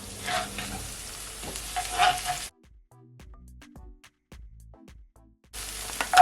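Scotch bonnet pepper and tomato sizzle loudly in a frying pan for a Jamaican beef patty filling, then fall to a quiet stretch of sparse clicks before the frying hiss surges back at the end.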